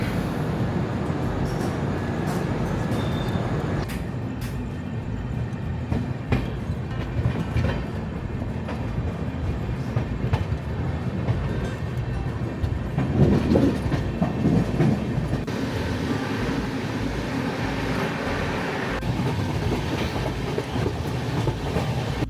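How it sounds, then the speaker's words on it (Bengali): The Saraighat Express pulls out of Sainthia Junction with a steady low rumble and rhythmic clickety-clack of wagons on rails, continuous and fairly loud throughout, with no talking. "এক্ষুনি ট্রেন ছেড়ে দেবে।"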